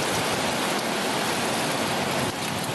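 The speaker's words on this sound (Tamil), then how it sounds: "திடீரென கோடை மழை பெய்ததால் வெப்பம் தணிந்தது" A summer rain shower falls steadily, a dense, even hiss of rain on surfaces that holds at the same level throughout, with no voices.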